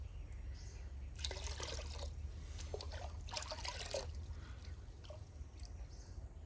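Hydroponic nutrient liquid is poured into a solution, giving a faint, uneven trickle and splash in several short bursts over a low background hum.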